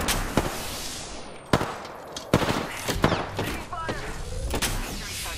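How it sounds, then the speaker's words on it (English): Rapid automatic gunfire in Apex Legends, with sharp close bursts and single cracks spread across the clip and a busy battle din beneath them. "I'm taking fire."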